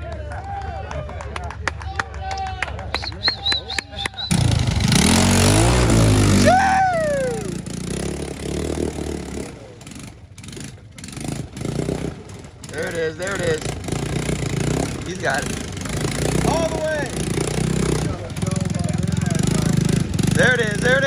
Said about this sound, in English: Hey, the engine's still running.